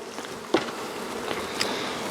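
Honey bees hum steadily at the hive entrance around the brood nest, a close, continuous buzzing drone with a few brief louder passes from bees flying near, no voices.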